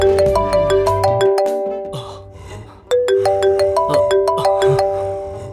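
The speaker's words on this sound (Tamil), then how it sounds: "ஃப்ரெண்டு கிட்ட இருந்து ஃபோன் வந்திருக்கு" Incoming-call phone ringtone: a loud, bright electronic chime melody of rapid descending notes, played through, pausing briefly, then starting again.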